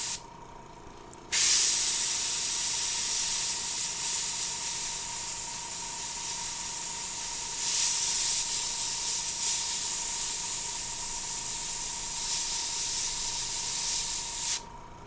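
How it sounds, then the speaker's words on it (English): Steady close hiss of an airbrush spraying paint starts after a moment of quiet, rising and easing slightly in pressure before cutting off near the end, with no talk. "That part is a little difficult to airbrush because it has a bunch of curves and stuff"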